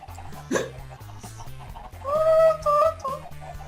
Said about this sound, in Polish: teraz kurczaki atakują